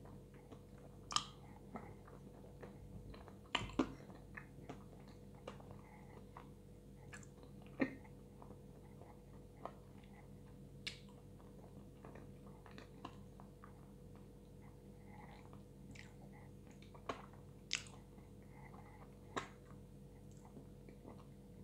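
Chewing salty dinner food close to the mic, soft wet bites and occasional crunchy ticks spread irregularly over a quiet, steady background, with no talk.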